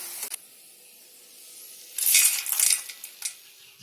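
Fried cowpeas for a spicy snack are spooned from the pan into a bowl, with a few light metallic clinks and scrapes, then a denser burst of clattering in the middle. No one speaks.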